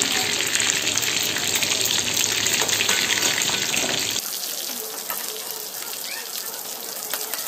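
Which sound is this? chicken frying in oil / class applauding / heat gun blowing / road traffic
chicken frying in oil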